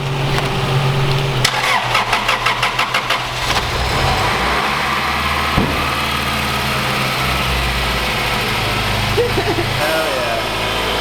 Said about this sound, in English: so now I'm gonna jump it and we'll see if it fucking starts up or not